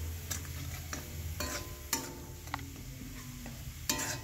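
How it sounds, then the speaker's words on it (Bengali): Thankuni leaves being stirred in hot oil in a pan, a soft continuous sizzle broken by intermittent scraping and clicking strokes of the spoon against the pan, close and alone with no talk. "এটা অনেকক্ষণ ধরে তেলের মধ্যে নেড়ে নিতে হবে"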